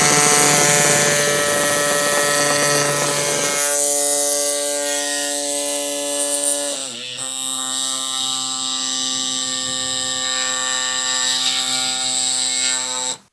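Loud, steady mechanical whine and buzz of a Silca Elettrico Ultimate electric bike pump running close by, its pitch shifting partway through, then cutting off abruptly.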